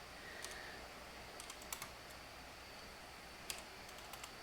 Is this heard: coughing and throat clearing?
no